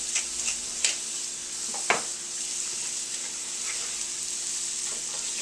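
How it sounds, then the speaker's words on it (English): Vegetables and pancetta fry in a pan with a steady, bright sizzle, broken by a few sharp clicks and scrapes of stirring, close and without voices. "You're going to sweat these vegetables down until they start to get a little bit translucent and a little bit more tender"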